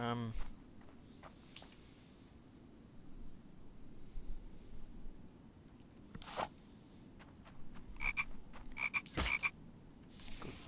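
Frogs croak in the survival game The Infected: a few scattered, sharp croaks and chirps stand out over a low, steady ambient bed, with some clustered near the end.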